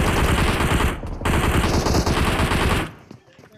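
Automatic gunfire in the video game PUBG Mobile rattles in loud, rapid bursts with a brief break near one second, then cuts off abruptly and leaves only faint trailing sounds.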